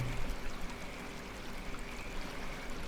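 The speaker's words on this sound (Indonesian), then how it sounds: "sungai di dalam terowongan." A river flows through a tunnel inside a Japanese-built cave, making a constant, moderately loud rushing wash that echoes faintly, with no voices.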